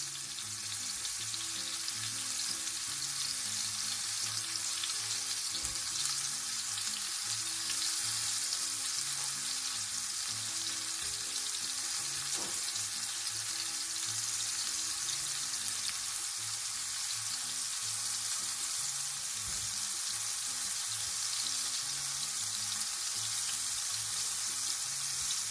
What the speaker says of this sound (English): now I'm just going to fry it again on a high heat